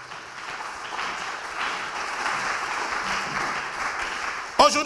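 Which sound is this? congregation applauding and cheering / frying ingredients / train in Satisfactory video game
congregation applauding and cheering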